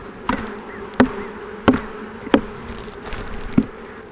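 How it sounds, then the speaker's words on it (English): Honey bees from a queenless split hive buzz in a steady low drone while the frame is shaken, with several sharp knocks of the frame at regular intervals. "I'm going to shake these bees off because I'm probably going to take this frame out"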